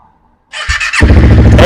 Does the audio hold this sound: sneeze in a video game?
no